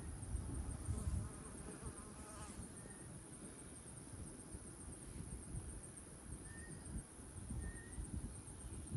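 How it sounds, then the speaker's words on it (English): Soft, continuous buzzing of many honey bees close by in an apiary hive, a low droning hum with no talking. "There's more bees down here"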